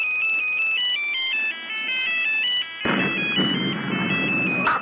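A cell phone rings with a bright electronic melody used to trigger an explosive device placed in a hen house, playing loudly for several seconds before a burst of broadband noise cuts in under the continuing tone.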